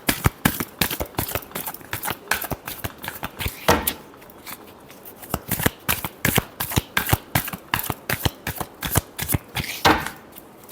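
Rapid riffling and slapping of tarot cards being shuffled close up, in quick repeated bursts with a brief pause midway, no talking.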